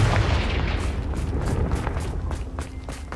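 A Confringo blasting spell explodes in a video game, a heavy, booming blast that rumbles on with a long, low roar and fades slowly.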